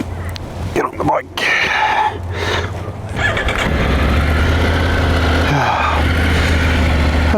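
Triumph Tiger 900 Rally Pro motorcycle cranking and firing up, then settling into a steady, close idle rumble, with a person talking over the start.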